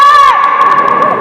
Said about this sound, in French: Mais qui peut crier mon nom comme ça?